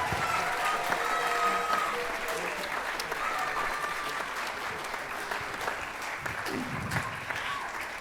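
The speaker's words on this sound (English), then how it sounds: "can we give one final round of applause, not only for our seniors, but for all students tonight?" An audience at a high school band concert claps steadily for the seniors and all students, a dense sustained round of applause with a few scattered voices in the crowd.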